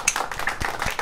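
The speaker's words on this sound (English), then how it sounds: "Everybody give Dennis a round of applause for making good jokes." Players clap in a Roblox prison game, a quick, faint patter of several soft claps over about a second.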